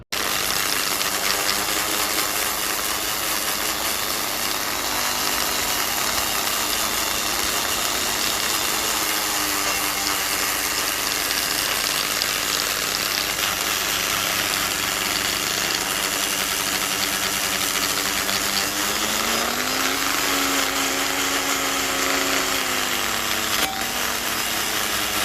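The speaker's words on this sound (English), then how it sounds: "I'm going to run the Dremel around in there again" A Dremel rotary tool grinds and cleans up a part on a 1957 Ferguson 35 TVO tractor, a steady high whine running continuously with a slight pitch shift near the end, close and loud, with no talk.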